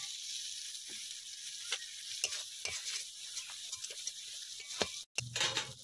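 Fried potatoes being stirred into a cooked spice masala in a pan for tabka, a steady sizzle broken by scattered spoon scrapes and knocks, with a short silent gap near the end.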